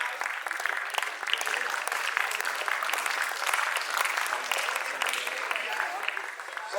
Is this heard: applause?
yes